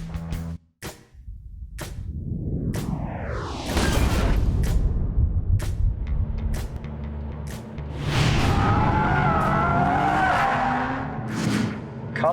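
Drift race cars on race day, with engines revving and tires squealing in rising, sweeping tones, broken by sharp bangs that sound like backfires, then a long stretch of loud skidding close by.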